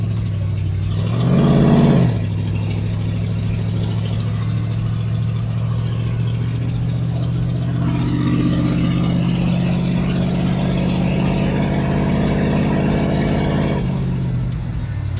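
An old farm vehicle's engine, first time moving in a long while, drones steadily while driving, with a brief rev near the start and a rough, vibrating hum throughout.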